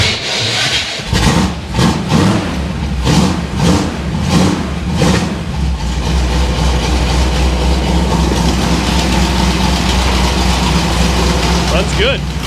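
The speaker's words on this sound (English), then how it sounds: "Don't mind the starter, she's loud." Hot rod engine cranking on a loud starter for several seconds in a rhythmic series of bursts, then catching and running steadily with a rough exhaust leak, close and loud throughout.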